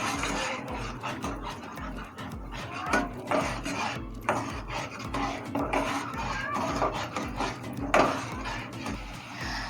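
A spoon scrapes and stirs misal masala through the contents of a metal pan, giving repeated rough metallic scraping and clanking strokes in a steady rhythm, loud and close.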